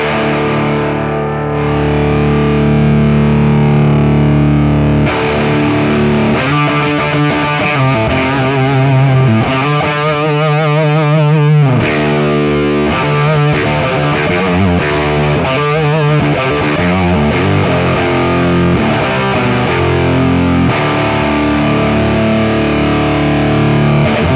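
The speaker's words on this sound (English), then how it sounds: "now you're gonna hear only the pedal going through a power section" Electric guitar through a distortion pedal into an amp power section with the knobs cranked, playing loud, thick, saturated chords and riffs that sustain continuously with no talking.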